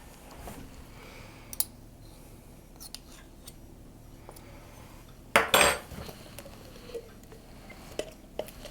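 A spoon scrapes and clinks against a jar while scooping out thick unsweetened, all-natural peanut butter, soft quiet scraping with one sharper metallic clatter midway and light taps after.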